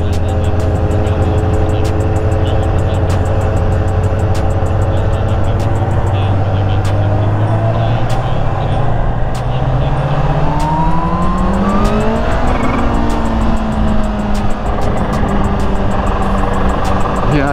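A 2019 Kawasaki Ninja H2 supercharged motorcycle cruises with a steady, loud engine drone heard up close, its pitch rising gradually through gear changes amid constant wind rush, with no talking.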